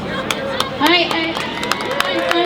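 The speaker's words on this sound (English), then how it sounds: "don't clap, no, please." A crowd claps at a police brutality memorial gathering meant to hold a minute of silence, giving scattered, irregular hand claps over a murmuring crowd with voices and some shouting mixed in.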